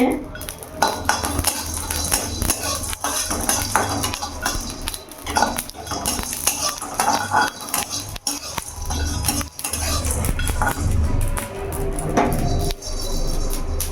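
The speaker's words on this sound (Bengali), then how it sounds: "বিরিয়ানিতে যা যা মশলা লাগে সবই আছে এখানে আমি এটা আগে একটু শুকনো কড়াইতে গরম করে নেব" Whole biryani spices, including dry ginger, are stirred in a dry wok, giving repeated metallic scraping and clinking at close range while someone talks.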